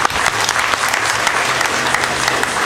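Sustained applause from a rally audience at a Tea Party event in the Florida Panhandle, dense steady clapping filling the whole stretch with a faint crowd murmur beneath.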